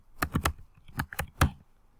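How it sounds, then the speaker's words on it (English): Keys on a computer keyboard being typed in short bursts of crisp clicks, several quick strokes then pauses, close and moderately quiet with no voices. "go ahead and type this into your notes"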